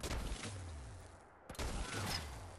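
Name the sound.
enemy gunfire in video game Fallout 4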